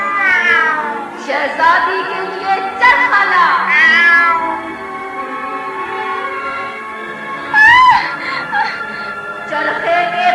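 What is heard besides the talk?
black cat meowing, sound effect in cassette story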